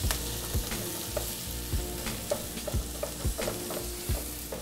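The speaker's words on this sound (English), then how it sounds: "Allow this to saute a little." Herb-filled stuffing sautéing in a pan on a stovetop gives a soft, steady sizzle, broken by repeated low knocks and scrapes of a utensil stirring at a loose rhythm, with no voices.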